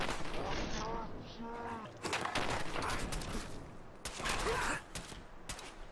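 Bursts of enemy gunfire in modded Fallout 4, several loud volleys of rapid shots near and mid-distance, interleaved with a voice talking and grunting.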